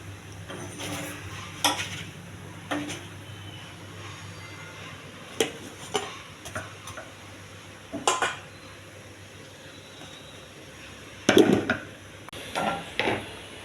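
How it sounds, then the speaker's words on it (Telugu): A chapati cooks on a pan under a low, steady background hum, with occasional clinks and scrapes of a utensil as it is flipped, each contact brief and close, spaced several seconds apart. "మధ్యలో మాడకుండా కొత్త వెంటనే తిప్పుతూ ఉండండి"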